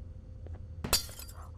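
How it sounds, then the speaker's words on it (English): Glass shatters in the video game Garten of BanBan: one sudden, bright crash with a short tinkling tail, rising over a low, quiet background hum. "Oh, broke the glass."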